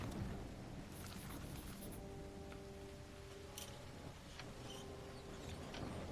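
Steady rain with rumbling thunder in the horror game Call of the Elder Gods, a constant wash of downpour with a low roll of thunder and faint tonal game sounds over it.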